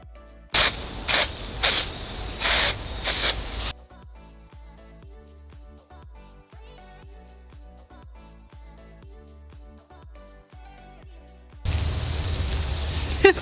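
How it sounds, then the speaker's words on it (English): Aerosol makeup setting spray hisses in four or five short bursts up close, followed by a stretch of quiet clicking and ticking before another long hiss at the end. "you also want to spray it like kind of far away from your face"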